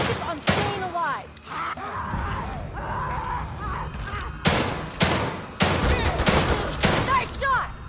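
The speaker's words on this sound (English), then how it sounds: "Keep shooting until they're dead or we run out of ammo" Gunfire bursts from The Evil Within 2 video game, repeated shots and volleys cracking loudly through an eight-second firefight, with sharp broadband blasts at irregular intervals over a tense game soundscape and voices speaking between shots.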